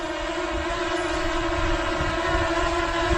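A Potensic Atom drone in flight just after takeoff, its propellers giving off a steady, loud, high-pitched whine with sustained tonal buzzing and no break throughout.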